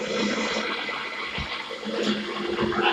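Rushing water from a waterfall in the video game Ark, a steady broadband roar of splashing flow that holds loud and continuous throughout, with no speech over it.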